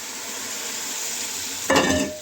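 Tomatoes tipped into hot frying masala for rajma, a steady low fry hiss suddenly swelling into a loud burst of sizzling near the end, with no talking.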